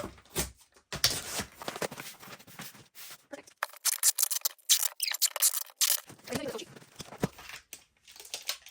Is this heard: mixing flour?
no